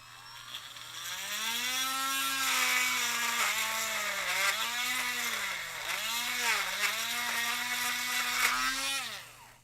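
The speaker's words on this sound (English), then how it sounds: "We'll drill what we can." A power drill bores into a workpiece, its whining motor pitch dipping and recovering repeatedly as it bites into the material and bogs under load, then spinning free near the end; steady, close and alone.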